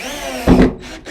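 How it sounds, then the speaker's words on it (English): A power drill drives a screw through the top sauna bench into the wooden frame below, one short loud burst of whirring and grinding at close range with no voices. "And drill the top bench down."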